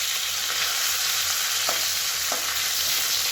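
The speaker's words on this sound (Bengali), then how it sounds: "এই যে মাছ ভাজা করছি।" Fish frying in a pan hisses and sizzles with a steady, loud crackle throughout, broken by a few soft scrapes of stirring, with no voices.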